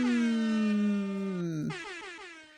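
A loud air horn blast with a long sustained tone that sags slightly in pitch, breaks off briefly, then sounds again and fades.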